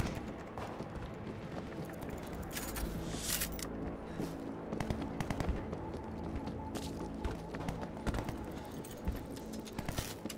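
Rapid bursts of automatic gunfire from an auto turret in World War Z, a dense continuous clatter of shots mixed with other battle noise and scattered impacts, steady and busy throughout.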